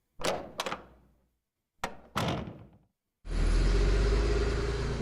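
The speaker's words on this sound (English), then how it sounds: "He opened the door and walked out." A door in Cupid Parasite is handled twice. Each time comes a sharp clunk, then a rattling slam that decays away. These are followed by a steady, loud low rumble like a car engine starting up and idling.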